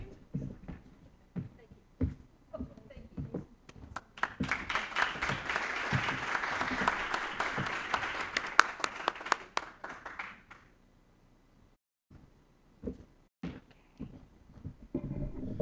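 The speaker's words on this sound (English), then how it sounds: "Please give another round of applause" Audience applause at an Older American's Month awards ceremony, a swell of clapping building over several seconds then fading to scattered claps, with sparse claps around it.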